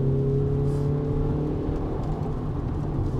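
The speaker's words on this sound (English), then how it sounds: "the VTEC crossover on these older engines is so much more crispy, so much more satisfying" A Honda Accord Euro R CL1 with a VTEC engine revs hard nearby, a loud, steady, rising engine note with strong harmonics that eases off and drops lower toward the end.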